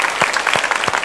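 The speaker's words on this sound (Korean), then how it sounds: "우리 감사의 박수 드립시다." A church congregation at a Friday worship service claps in thanks, a dense patter of hands with a few stronger bursts, steady and fairly loud with no talking over it.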